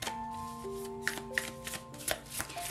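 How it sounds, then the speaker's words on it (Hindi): Tarot cards being shuffled by hand, soft quick riffling and tapping at close range over faint background music, with no talking. "तो चलिए शफल कर लेते हैं कर्क राशि कैंसर साइन के लिए।"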